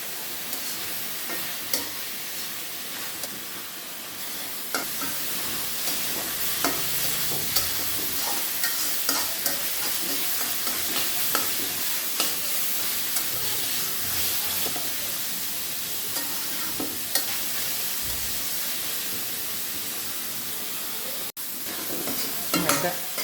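Spinach fries in a pan while a spatula stirs it, giving a soft, continuous sizzle broken by scraping strokes and light clinks, quiet and near, with no talking.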